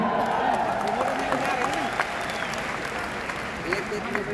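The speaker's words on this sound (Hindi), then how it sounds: "एक बार आपके लिए ताली।" Crowd applause at an anniversary gathering in Delhi, a dense, even wash of clapping from a large audience, steady and moderately loud, with voices mixed in underneath.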